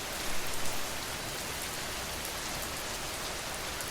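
Gentle rain falls steadily as a dense, even hiss of drops on a surface, continuous and close, with no voices.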